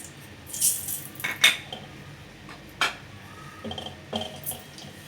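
A metal spoon scrapes and clinks against a cooking pan while salt is added to oil for butter caramel popcorn. The clinks come as several close, fairly loud taps in an uneven rhythm, with no talking.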